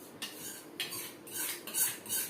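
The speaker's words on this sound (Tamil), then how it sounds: "இப்போ நம்ம வறுத்து வச்சிருக்கிற வேப்பம்பூவே இதில் போடுறோம்" Fried neem flowers being added to rasam in a pot, a few metal spoon clinks and scrapes against the vessel, close and moderately loud, with no talking.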